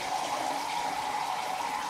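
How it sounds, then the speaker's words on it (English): A shower faucet runs steadily into a glass as it fills, giving a constant, close hiss of flowing water with no talk. "Let the glass fill."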